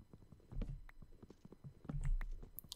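Horse hooves clip-clopping in Minecraft, a quick run of light, evenly spaced steps, fairly close and moderately loud, with no talking.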